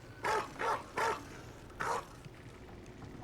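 A Mabari dog barks four times in sharp, fairly loud bursts in Dragon Age: The Veilguard, spaced unevenly and then falling quiet into low background ambience.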